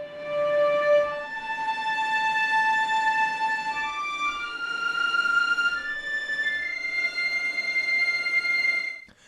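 Cellos from an Abbey Road Orchestra sample library play thin, glassy sustained harmonics, stepping slowly upward through several pitches over a soft bowed hum, steady and moderately quiet.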